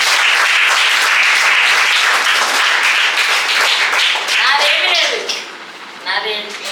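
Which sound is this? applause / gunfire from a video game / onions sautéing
applause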